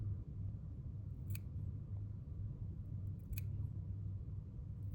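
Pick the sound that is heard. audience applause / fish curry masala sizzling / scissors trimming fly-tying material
scissors trimming fly-tying material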